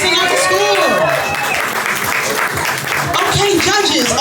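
Crowd applause for a poet at a poetry slam, loud and sustained throughout, with voices and cheering mixed into the clapping.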